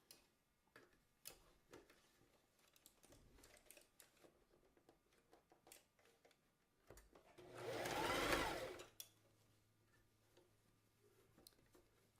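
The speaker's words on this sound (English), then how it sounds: "You're going to stick it under your sewing machine, and I always stitch this" A sewing machine stitches fabric for a kids newsboy hat along a zipper foot, one loud close burst of running stitches lasting under two seconds amid quiet handling clicks and taps.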